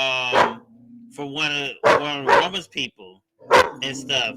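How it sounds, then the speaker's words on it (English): Dogs bark in short, sharp bursts mixed in and overlapping with someone talking close by, the barks loud and intermittent, with a few higher yips. "I know you hear the dogs."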